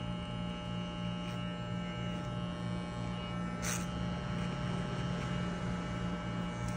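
An electric hair clipper runs with no guard at the zero setting while shaving a fade on the side of a head, giving a steady close-up buzz with a strong hum throughout and no pauses.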